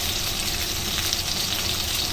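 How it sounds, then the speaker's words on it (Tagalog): Garlic sizzles and fries steadily in a hot pan as a base for mung bean stew, a dense continuous crackle close up with no voices. "Yan, lagay natin garlic."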